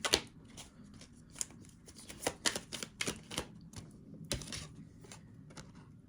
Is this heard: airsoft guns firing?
no